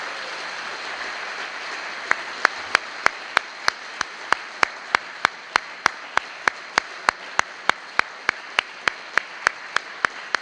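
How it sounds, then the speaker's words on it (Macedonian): Concert audience applause fills the hall as a steady wash, with sharp rhythmic claps joining in at an even pace and carrying on to the end. "Уште еднаш огромен аплауз."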